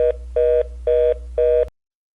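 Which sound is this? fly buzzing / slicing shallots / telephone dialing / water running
telephone dialing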